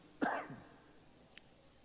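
One short, close cough, faint against a quiet room, followed a second later by a tiny click or throat sound.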